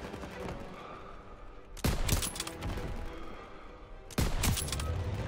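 Gunfire in a WWII campaign street battle: steady machine-gun fusillade in the distance, punctuated by two loud close bursts of rapid shots, with no voices.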